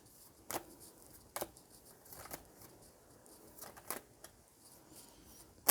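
A tarot card deck is riffled and shuffled in short, soft bursts a few seconds apart, close and quiet, with no one talking.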